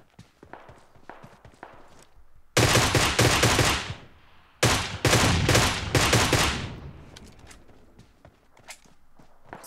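Two long bursts of loud, close automatic fire from a gun in PUBG Mobile, set apart by a short pause, with quieter footsteps and movement before and after.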